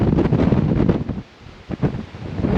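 Strong windstorm gusting across a campsite in the Guadalupe Mountains, a loud broadband roar buffeting the microphone, easing briefly to a lull before surging back with heavy rumble.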